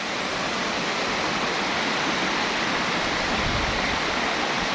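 A swollen river after a flood rushes loudly and continuously, a dense broadband roar of flowing water with no breaks, heard close by and alone.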